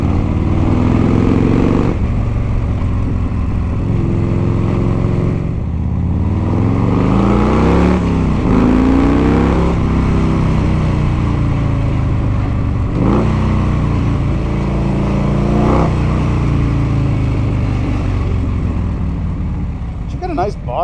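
Engine of a 1984 Harley-Davidson motorcycle revving loudly and close, with repeated rising and falling throttle blips over a rumbling idle, and occasional talk mixed in.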